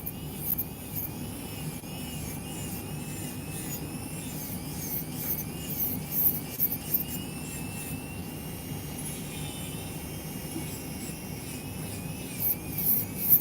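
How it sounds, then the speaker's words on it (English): Acrylic nails being filed with a ceramic bit on an electric nail drill, a steady high whine with soft, continuous rubbing and grinding underneath, running close and unbroken throughout. "While filing now, make sure it's smooth."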